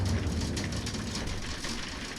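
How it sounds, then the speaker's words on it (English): Hail hammering against a house window during a sudden storm, a loud, dense, continuous rattling patter with no pauses, close and steady throughout. "there's definitely hail."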